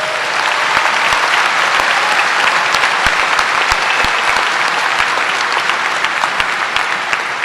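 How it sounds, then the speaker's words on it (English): Steady audience applause at a high school graduation ceremony, dense continuous clapping from a large crowd for cum laude graduates, sustained evenly throughout with no voices over it. "Please join me in applauding our cum laude recipients."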